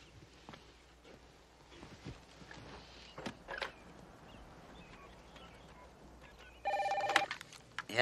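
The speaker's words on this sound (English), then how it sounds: "There's the phone." A telephone bell rings once near the end of a quiet indoor scene in a Perry Mason crime drama, a short loud electric ring following soft footsteps and room noise.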